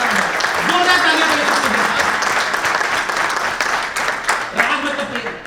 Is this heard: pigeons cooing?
no